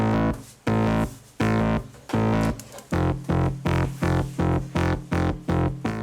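An old synth bass line made with Analog Lab plays loud, distorted staccato notes: four long pulses, then a quicker run of short stabs in a steady rhythm, each note decaying sharply, with no voices.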